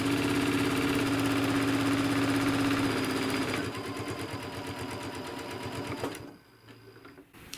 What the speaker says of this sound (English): Alright, and now I will start sewing.